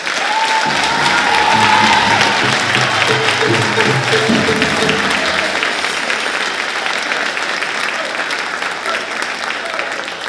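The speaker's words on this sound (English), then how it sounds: "How about one more round of applause?" Audience applause at a Southwestern High School band concert, a dense, sustained wash of clapping that stays loud throughout, with faint voices and a few held tones mixed in early on.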